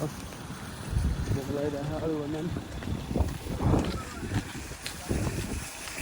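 Gusty wind buffets the microphone with a steady rushing roar in Torres Vedras, Portugal, while people talk nearby under the noise.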